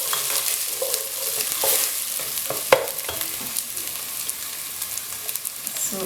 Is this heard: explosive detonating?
no